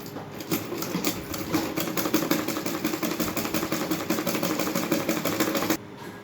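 A sewing machine stitches a pocket onto palazzo pants, giving a close, steady, rapid mechanical clatter with even pulses throughout that cuts off just before the end, with no talking.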